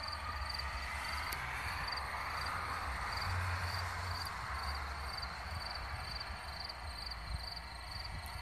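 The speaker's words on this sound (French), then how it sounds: "vous entendez plus les grillons que le tonnerre." Crickets chirp in a steady, faint, continuous trill at night outdoors in the Rhône-Alpes region, with a constant hiss of wind beneath and no talking.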